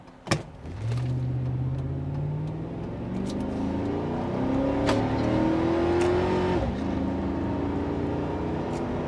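A Chevrolet Tahoe fitted with bigger tires accelerates hard from a stop in a 0-60 run, its engine note rising steadily through the gears with a brief dip at a shift, loud and continuous, heard from inside the cabin.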